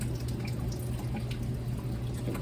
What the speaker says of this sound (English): We're getting a little bit of residual water here through the check valve.